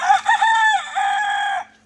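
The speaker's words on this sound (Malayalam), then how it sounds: "നാടൻ കോഴി കൂവിയാലും ഏത് കോഴി കൂവിയാലും" A rooster gives one loud, close crow, a drawn-out cock-a-doodle-doo rising and then holding before trailing off, heard alone with no voices.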